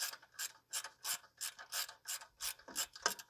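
A socket ratchet loosens an intake/exhaust manifold fastener on a 1965 Renault R8 1100. About a dozen crisp, evenly spaced ratcheting clicks come up close and fairly quiet, with no talking.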